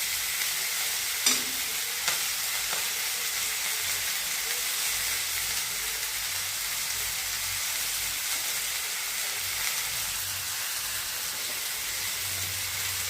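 Chopped fenugreek leaves fry in a pan with sautéed onion, giving a steady soft sizzle and hiss throughout, with a couple of faint clinks from stirring near the start.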